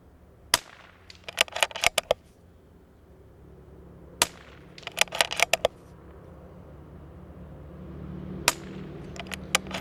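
Shots from an accurate, lightweight, quiet .22LR rifle fired at an outdoor target, in three separate groups of sharp cracks, each followed by softer clicks and clatter of handling, with quiet pauses between.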